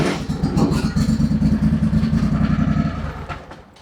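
Engine of a Craftsman DLT 2000 riding mower turning over and catching, a loud, close, steady rhythmic chugging that runs for about three seconds before fading.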